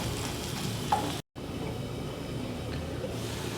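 Onions with ginger-garlic paste frying in a pan for a cherry tomato curry, a steady close sizzle that runs throughout with a brief dropout partway, no talking.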